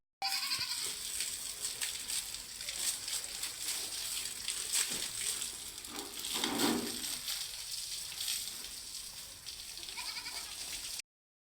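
Goats tethered outdoors on a farm bleat near and clearly over a steady outdoor background, with a louder bleat partway through and no speech.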